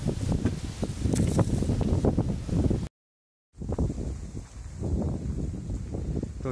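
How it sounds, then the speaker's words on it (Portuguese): Strong gusts of wind buffet the microphone while crews fight a wildfire in the Pantanal of Mato Grosso do Sul, loud rumbling bursts with a brief dropout midway, then more blustery roaring. "O negócio é rajada de vento, tenente, que vem."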